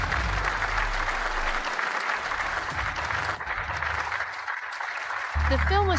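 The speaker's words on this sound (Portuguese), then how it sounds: "vamos dar uma salva de palmas calorosa para dar as boas-vindas aos 3 jurados aos seus lugares" Warm applause from a competition audience welcoming three judges to their seats, steady and fairly loud clapping that continues throughout, with a low rumble underneath and a voice briefly heard near the end.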